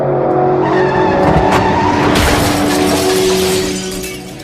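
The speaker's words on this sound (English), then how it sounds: "the car went out of control and went through a jug shop window" A car skids out of control and crashes through a jug shop window, a loud, dense burst of engine roar, tire squeal and shattering glass that tails off after a few seconds.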